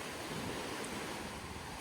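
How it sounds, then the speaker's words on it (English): Waves wash steadily onto a beach at Tahquamenon Falls State Park in Michigan, producing a continuous broadband surf roar blended with wind noise on the microphone. "There's a beach and trees, and these look like ocean waves."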